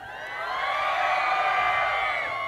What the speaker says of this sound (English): Great cheers from the crowd.